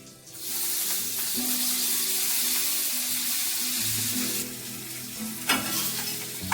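Crispy chicken leg pieces fry in a pan with a loud, continuous close sizzle and hiss. A couple of sharper clatters come near the end.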